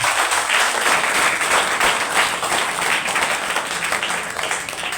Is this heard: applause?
yes